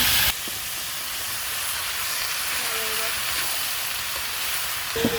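Chopped carrot, potato, pumpkin, cauliflower and spinach sizzling in a hot pan for vegetable khichuri, a steady, loud, close hiss that carries on evenly with a few faint clinks.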